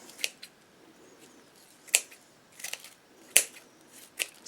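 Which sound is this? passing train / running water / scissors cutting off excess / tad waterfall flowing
scissors cutting off excess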